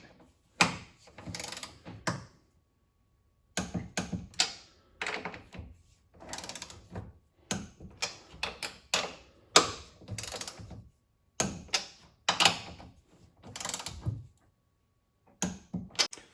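A ratchet wrench tightens the shock mount nuts on a Mustang, sounding as repeated bursts of quick metallic clicking separated by short pauses, close and clear with no talking.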